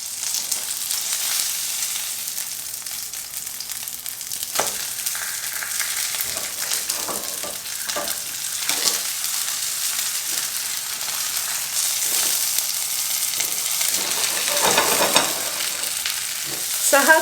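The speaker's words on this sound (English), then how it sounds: "you can see the oil sizzling the edges of the fish" A fish fillet fries in oil in a pan for fish meunière, producing a steady, close sizzle. Occasional crackles and a few soft scraping touches stand out, and the sizzle swells slightly toward the end.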